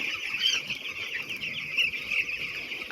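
Broiler chicks at day nine cluck continuously while pecking at feed, a dense, steady chorus of high-pitched peeping and clucking from a crowded flock close by.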